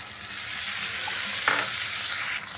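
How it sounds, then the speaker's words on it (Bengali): Onions fry in a pan for a shrimp and pointed gourd curry, a steady close sizzle with a brief scrape of stirring midway and no voices. "পেঁয়াজটা এখানে ভেজে নেবো"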